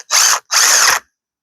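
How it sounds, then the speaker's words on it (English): A power drill runs in two short bursts, a brief pause between them, loud and close while building a patio shade structure, then stops. "Boy, do I love power tools"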